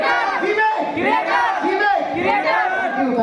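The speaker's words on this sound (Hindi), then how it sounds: "एक बार जोरदार तालियां।" A crowd at a stage event shouting and cheering loudly together, rising and falling in waves of excited voices close by.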